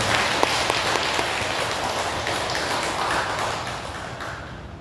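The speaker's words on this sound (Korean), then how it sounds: "우리 회장님께 고마운 큰 박수 한번 부탁드립니다." A crowd at a Buddhist temple dharma service applauds steadily, dense clapping filling the room at moderate loudness and slowly tapering toward the end.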